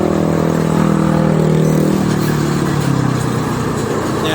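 Steady, loud traffic on the Jakarta–Cikampek toll road in the late afternoon, with freight trucks heading east. Engines drone continuously without pause and no voices are heard.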